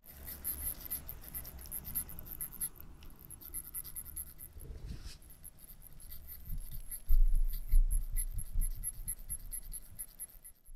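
An expensive octagonal steel luxury watch handled up close, with continuous soft metallic rubbing, scraping and faint clinks of the bracelet, growing louder and more textured toward the end.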